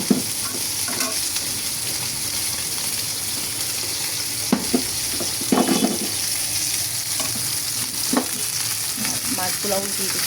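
Rohu fish pieces fry in a pan of hot oil with a constant, loud hissing sizzle, broken now and then by brief scrapes and clinks of a utensil being moved.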